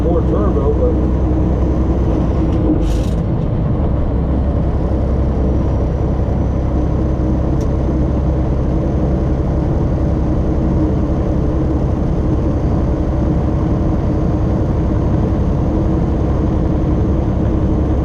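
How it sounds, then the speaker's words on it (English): A semi truck's engine with the turbo building as the driver accelerates, a heavy, constant low-pitched drone and whine from inside the cab, loud and steady throughout, with someone talking over it. "You can hear if I step on it here that I got more turbo"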